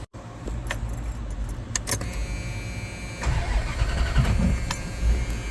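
Car engine cranking on a 2000A HPBS portable battery jump starter, with a jangle of keys at the start, then a labored, too-weak crank that fails to turn the motor over, loud and close.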